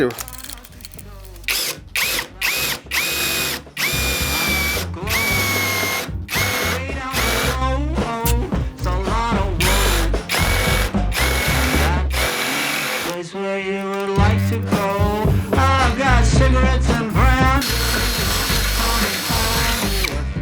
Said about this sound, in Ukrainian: давайте перевіримо тепер сверло 13 мм